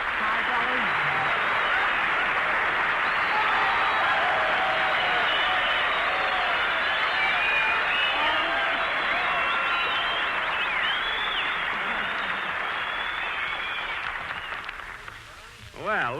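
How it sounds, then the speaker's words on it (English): Studio audience at a 1943 Jack Benny radio broadcast applauds guest screen actress Virginia Bruce, a loud, sustained wash of clapping that holds steady for about fourteen seconds before tapering off near the end. "Virginia, you got more applause than I did"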